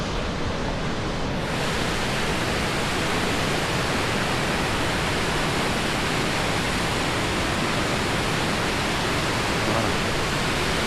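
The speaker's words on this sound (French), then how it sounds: "Et vous avez la cascade" Cascade du Faillitoux in Cantal pours as a loud, steady, broadband roar of falling water, dense and unbroken throughout, with no voices.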